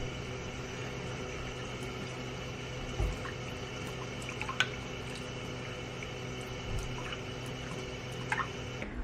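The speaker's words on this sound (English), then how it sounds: "I'm just gonna add 6 tablespoons of water to this bowl" Six tablespoons of water poured into a bowl of ground flax seed, with a few faint drips and splashes over a steady hum of background noise.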